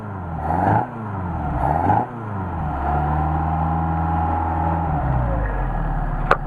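A Mercedes 190SL engine with Solex carburetors revs hard twice in quick bursts, then holds at a steady high RPM, loud and close, on a cold 29°F day.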